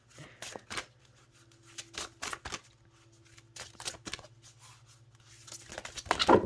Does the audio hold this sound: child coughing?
no